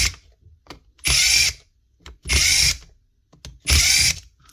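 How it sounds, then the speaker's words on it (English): Makita drill, part of a box of repaired tools, runs in three short loud bursts of about half a second each, its whirring motor close and separated by quiet gaps with faint clicks. "Actually a nice wee drill."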